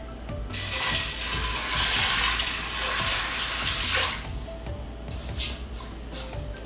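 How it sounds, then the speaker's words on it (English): Water poured from a tap into an Instant Pot over dry beans, a close, steady splashing and hissing pour lasting several seconds, easing off toward the end with a small clunk, no speech. "we're gonna add in enough water to cover"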